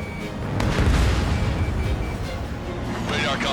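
Missile launch and blast in the combat flight game Ace Combat 7: a heavy low rumbling boom swells early and rolls on, with a radio voice speaking over the noise.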